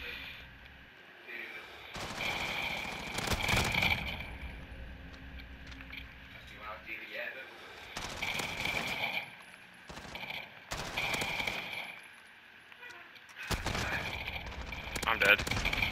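Bursts of rapid gunfire from a video game 1v1 match, several separate volleys of shots recurring across the clip with short gaps between them, fairly loud and close, with no one talking.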